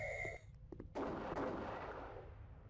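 Gunshot blasts from the mobile horror game Haunted House Scary Ghost Killer: a couple of sharp reports followed by a louder, sustained burst of firing that rings and fades.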